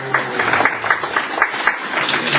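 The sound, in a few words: audience applause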